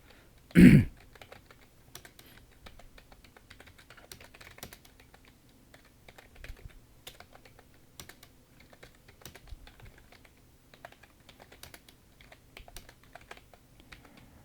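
Typing on a computer keyboard while entering slide text, a steady patter of light key clicks close by after a brief louder bump at the start, with no talk.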